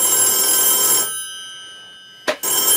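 A touch-tone telephone rings from inside a microwave oven, its loud, steady bell tone cutting off abruptly, falling silent for about a second, then a short burst and the ringing starts again.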